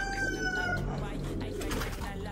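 Pigeons in a pigeon loft coo softly in low, throaty tones, close by, while someone talks over them.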